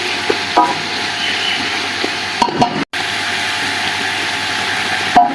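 Whole green chillies dropped into chicken frying in ghee for a Pakistani cabbage and meat curry, giving a steady close sizzle with a few brief clinks and stirring knocks.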